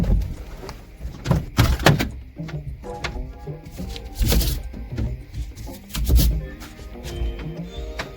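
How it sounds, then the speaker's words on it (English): A rear door on a 1999–2007 Skoda Fabia with a faulty electronic door lock is worked open from outside, giving a series of close clicks, latch clunks and thunks, with a heavier knock near the middle and another toward the end. "So, I can open the door from the outside maybe."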